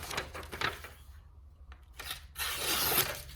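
A folding knife with a high flat grind slicing through material, giving short rasping tearing strokes up close, with a brief quiet gap before a longer, louder cut.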